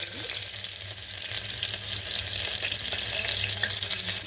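Chopped onions hit hot oil with cumin seeds in a pan, giving a steady, dense, close sizzle that holds through without pause and with no talking.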